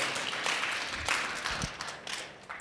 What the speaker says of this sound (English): Clap nicely.